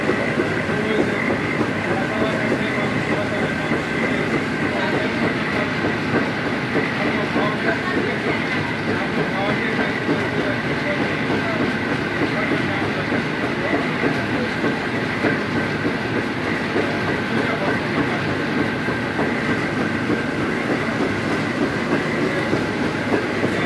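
A semi-automatic mustard oil mill in a village factory runs steadily, giving a loud, continuous mechanical rumble and rhythmic clatter with no break.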